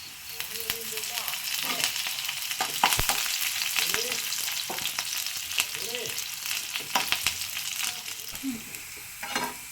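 Shallots and curry leaves sizzle and fry in a pan for sambar, with steady crackling and occasional stirring scrapes, close and continuous.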